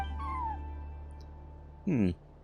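Cat meowing in the Genshin Impact video game, a single clear, close meow standing out over a quiet steady game background hum, with a brief tonal game cue just before.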